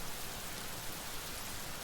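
Steady ambient rain falling, a dense even hiss of drops across the whole moment, soft and continuous with no voices.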